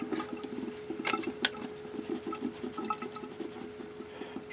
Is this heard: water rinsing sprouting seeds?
yes